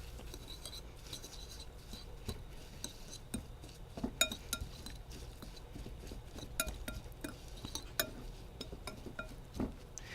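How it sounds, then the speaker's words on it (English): A whisk stirs salt and black pepper together in a bowl, producing faint, quick metallic clinks and scraping taps against the dish in an irregular rhythm, quiet and close with no talking. "Now I'm going to just whisk all of that together."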